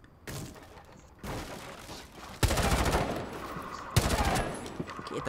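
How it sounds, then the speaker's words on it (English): Rapid gunfire in the tactical shooter Rainbow Six Siege, fired through a window, comes in loud bursts with sharp onsets around the second and fourth seconds, dense and continuous in between. "He's shooting through the window."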